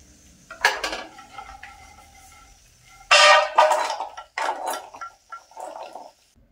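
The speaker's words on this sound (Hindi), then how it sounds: "इन्हें भी अब हम प्लेट में ट्रांसफर कर लेंगे।" Roasted cashews scraped out of a kadai onto a plate while making oats ladoo. Close metallic scrapes and clinks come in uneven bursts with brief quiet gaps, and no one speaks.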